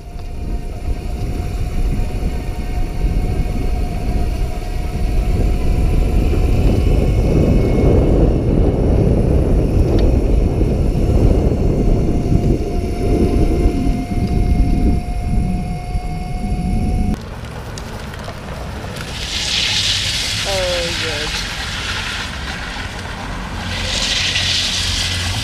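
Small engine of a motorized sofa chair drift trike reaching a little over 20 miles per hour, a loud buzzing drone held steadily, then a sudden drop to a lighter running tone with hissy bursts near the end.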